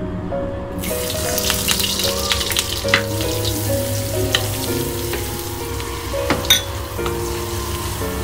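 Butter melts in a hot pan ahead of adding garlic for a shrimp dish, producing a steady, close frying sizzle with occasional stirring scrapes and sharper pops.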